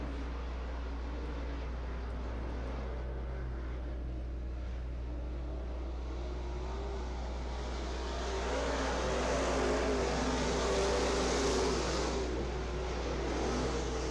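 Modified race cars lapping at Ocala Speedway, a continuous distant engine roar that swells louder as the pack passes, with no talk over it.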